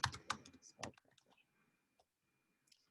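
Typing on a computer keyboard during live coding of Git configuration commands, a few crisp clustered key clicks up front followed by sparse faint taps trailing into near silence.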